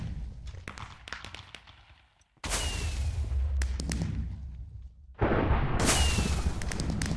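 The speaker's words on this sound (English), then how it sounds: "The world's greatest firework display." Fireworks burst in the game Magic Farm 2, with a crackle of small pops followed by two loud booming explosions that each leave a long fizzing, rumbling tail.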